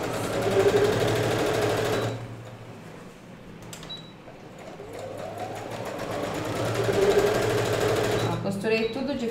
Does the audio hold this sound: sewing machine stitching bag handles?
yes